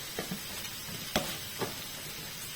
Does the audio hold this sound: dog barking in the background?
no